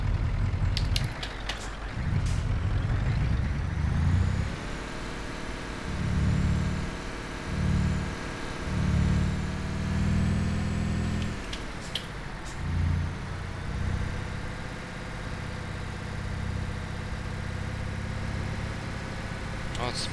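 A Scania R4 series truck engine in a video game rumbles and revs in uneven bursts, rising and falling in pitch, then settles into a steadier drone; someone talks over parts of it.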